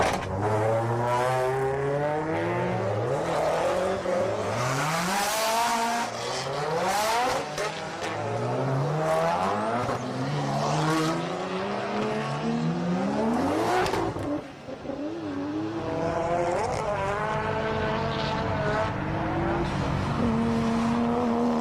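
HPI radio-controlled drift cars run a practice lap at YZ Circuit, their high-pitched electric motors whining up and down as they accelerate and slide through corners, loud and continuous with brief tire squeals.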